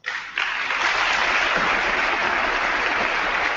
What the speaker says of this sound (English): Congress gobbled up Poroshenko's remarks, applauding about as often as they do during State of the Union speeches